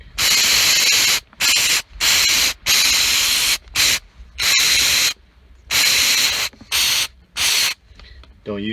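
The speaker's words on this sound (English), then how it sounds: "I'm going to give it a good strong spray" Repeated sharp bursts of aerosol cleaner spray hissing close by onto a car's mass air flow sensor, about ten strong blasts separated by short pauses.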